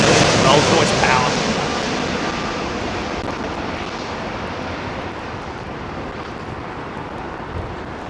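An airliner on Rolls-Royce engines arriving on Heathrow's runway 27L, a steady broad jet roar that is loudest at the start and slowly eases, heard alone with no voices.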